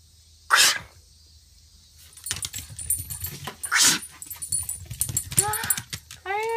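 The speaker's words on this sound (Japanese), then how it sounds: "あ、くしゃみが出そう。" A dog sneezes sharply twice as a trick, each a short bright burst, followed by rustling, faint whimpers and someone speaking.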